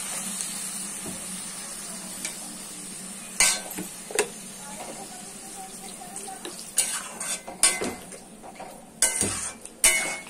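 Water poured into a frying pan of vegetables fried with salt and turmeric on a gas stove, heard as sharp hissing bursts and scraping clatter of a utensil against the pan, several irregular loud surges over a low steady hum.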